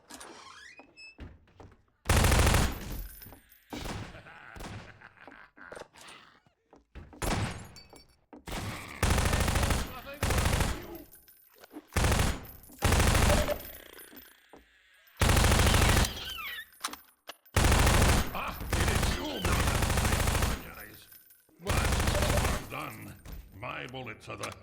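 Gunfire from a gun in the video game Half-Life 2, heard as loud, repeated bursts of automatic fire separated by quieter pauses, with occasional speech in between.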